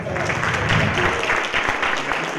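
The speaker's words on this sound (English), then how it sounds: "give a big round of applause for Dimitar Savov from Startup Masters." A conference crowd applauding a speaker steadily and loudly, a dense wash of clapping that holds for a couple of seconds, with maybe a faint voice underneath.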